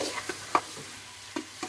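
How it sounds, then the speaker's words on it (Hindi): Food is stirred in a pot or pressure cooker for a homemade dish, and a metal spoon clinks against the side several times over a soft background sizzle, close by with no talk. "और ये मैं इसको हिलाऊंगी, लेकिन मैं इसको करूंगी कुकर के अंदर"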